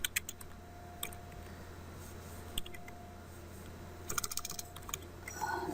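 Commands are typed on a computer keyboard during Cisco ASA 5510 firewall setup, with quiet, close bursts of irregular key clicks separated by short pauses, including a faster flurry near the end.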